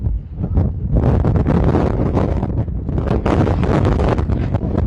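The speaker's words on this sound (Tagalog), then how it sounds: "Ang lakas kasi ng hangin." Strong wind buffets the microphone in a loud, continuous roar with gusty surges and no speech.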